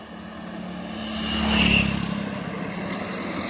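A single vehicle approaches on a forest ghat road, swells to a loud engine drone as it passes close by, then fades away, leaving a steady low background hum.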